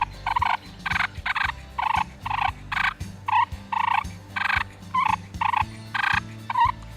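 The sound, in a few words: push button turkey call imitating fighting turkeys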